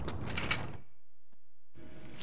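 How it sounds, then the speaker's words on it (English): A door opens in a cutscene from the video game The Warriors, a brief mechanical creak and clunk following a burst of noise, then near silence before the ambience returns. "Vermin, get the door."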